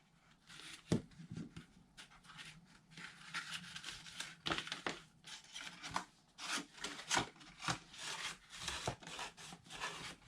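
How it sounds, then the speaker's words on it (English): Greeting card box flaps being folded backward and pressed in with glue, giving close, dry rubbing and crinkling paper sounds with scattered sharp creases and taps throughout, no talking. "we're going to fold these flaps backwards, place some glue"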